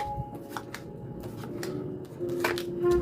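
Tarot cards are shuffled by hand in a quick run of soft taps and flicks over a few seconds, close by and quiet, with no voices.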